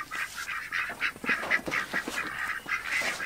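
Ducks or geese honking repeatedly in loud, close bursts, a dense flock calling over one another with no talk.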